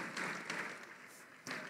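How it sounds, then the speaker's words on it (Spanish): A congregation claps for visiting guests during a Spanish-language Christian church sermon, a soft, scattered burst of applause that fades and then briefly picks up again. "un aplauso para los invitados de la zona número 3"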